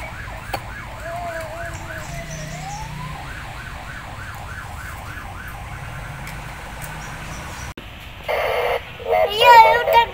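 A toy police car's siren wails in a steady rising-and-falling pattern, fairly close, then cuts to a brighter, louder electronic siren burst near the end as a child's toy button is pressed.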